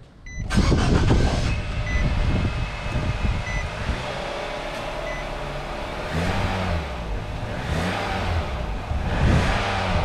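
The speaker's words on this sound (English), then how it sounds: "Now we can start up the vehicle." A 2010 Nissan Sentra with new spark plugs and ignition coils cranks and fires up loudly nearby, then settles into a steady, smooth idle with slight rises in engine speed.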